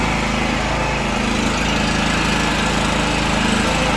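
ENERSOL petrol generator for home backup power running steadily after being started with the choke pushed in, a loud, continuous engine drone with a constant buzzing hum and no voices.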